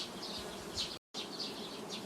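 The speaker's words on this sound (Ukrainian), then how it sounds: "Ось так працюють бджоли." Honeybees buzzing at an open colony hive in a queen-rearing apiery, a steady close, dense drone of many wings with a brief dropout midway and no voices.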